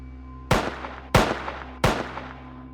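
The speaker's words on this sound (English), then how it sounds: "That's when we heard the gunshot." Three sharp gunshots ring out at even intervals, each a loud crack with a short echoing tail, over a low steady background hum.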